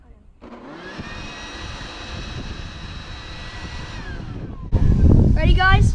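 A sustained, steady whooshing hiss of compressed air with a whining spin tone as the jet blows a fidget spinner, running for several seconds before a louder burst of splashing and rushing sound at the end.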